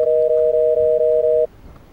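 A telephone tone after dialing a number sounds as a loud, steady two-pitch electronic buzz pulsing in short regular beats for about a second and a half, then stops abruptly into quiet.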